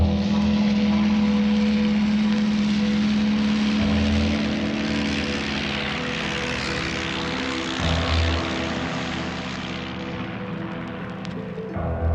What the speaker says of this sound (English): The aeroplane is a machine for flying.